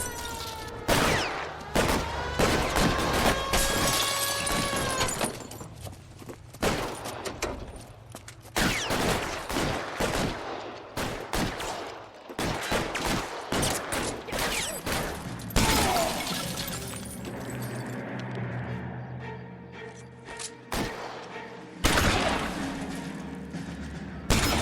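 Gunfire in L.A. Noire comes as repeated volleys of sharp, loud shots with rapid bursts and pauses, joined by glassy shattering and clattering impacts over a tense backdrop.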